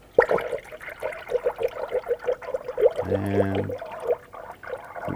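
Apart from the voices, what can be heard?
coolant being poured into a radiator cooling system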